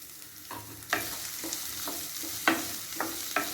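Onions sauté in a little oil in a pan for snake gourd kootu, a loud close sizzle with several distinct scraping stirs spaced about half a second apart.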